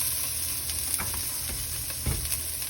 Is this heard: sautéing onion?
yes